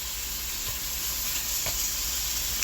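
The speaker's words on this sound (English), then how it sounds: "This is my turkey meat, you hear?" Turkey meat frying in a pan gives a steady, close hiss and sizzle throughout, with a couple of faint clicks of stirring against the pan and no voices.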